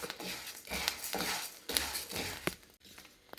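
Rice dry-frying in a pan over a gas flame for rice laddu gives a steady, close crackling sizzle, broken by repeated scraping and clinking of a utensil against the pan. No one speaks.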